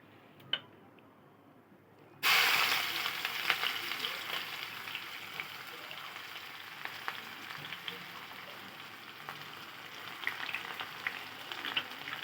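Onion and green chilies hit hot oil left from frying hilsa fish, bursting into a loud, steady sizzle after a quiet start, with faint crackles ticking through it to the end.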